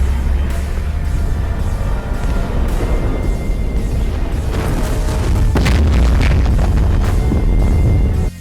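Film soundtrack of a bomb exploding on an evacuation ship: a heavy, sustained booming roar with rumbling blasts and sharper bursts building toward the end, loud and dense.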